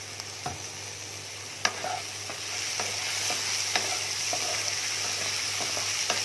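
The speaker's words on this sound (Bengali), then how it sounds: "দেখো মশলা সব কষানো হয়ে গেছে" A paste of ginger, garlic and green chilli fries with tomato in a pan, giving a continuous crackling sizzle under scattered sharp scrapes and clicks of a stirring spoon, close and steady, no voices.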